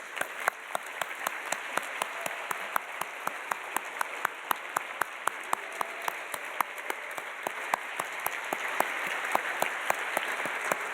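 Steady applause from a seated crowd at a faculty and staff recognition ceremony honoring five years of service, with sharp distinct claps running evenly for the whole stretch.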